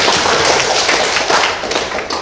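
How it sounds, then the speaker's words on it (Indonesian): A group of trainees at an in-person teacher facilitator training session clap their hands together, producing a dense, steady burst of overlapping claps. It fills the room at close range for a couple of seconds before tapering slightly. "Tepuk tangan dulu."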